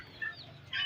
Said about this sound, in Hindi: उधर जाके तो हमारी एक मुर्गी रहती है जिसको अभी हमने खाना खिलाना है